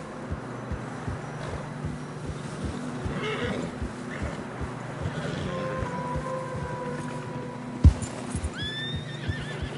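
Horses in a video game clop and snort through fresh snow at a steady walking pace, with a whinny near the end and soft wind in the background.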